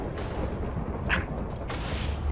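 Fragmentation sheep exploding in the Minecraft SheepWars minigame, a series of heavy booms with a sharp burst near the middle and another rumbling blast toward the end, loud and near, without any talking.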